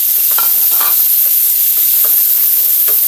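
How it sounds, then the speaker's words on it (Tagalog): Beef sizzles steadily in a little margarine in a hot pan, a loud, constant frying hiss broken by a few scraping stir strokes. "dito naman sa kawali, naglagay ako ng konting margarine. Tapos, unahin natin yung baka."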